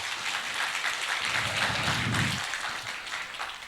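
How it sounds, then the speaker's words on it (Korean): A church congregation applauds during a Korean worship service, a steady dense wash of many hands clapping for nearly four seconds with a low murmur rising briefly near the middle. "우리 하나님께 영광의 박수 올려드리겠습니다."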